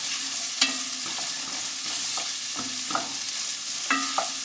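Onions softening in a pan for a hotpot, a steady broad sizzle with intermittent clinks and scrapes of a utensil stirring, close and continuous, with no talking.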